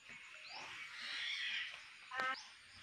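Birds call in the provincial countryside of Barangay Togong, Banton, Romblon, with faint, thin whistled notes rising over quiet background and a brief harsher burst near the end.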